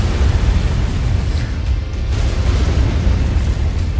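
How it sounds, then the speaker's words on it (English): A mech in MechWarrior 5: Mercenaries smashes through buildings, giving a loud, continuous rumbling crash of collapsing structures with deep booming low end throughout. "Just walk through, destroy buildings"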